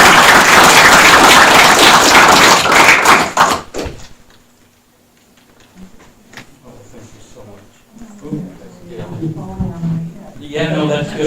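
Applause at a town council meeting, a loud burst of clapping from the room that stops abruptly, followed by quieter room noise, a thunk and people talking.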